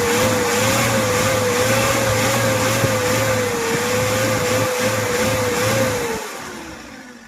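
A 2016 Isuzu Elf long-body truck engine runs steadily and close by with a smooth, even drone, then eases off and settles back near the end; no voices are heard.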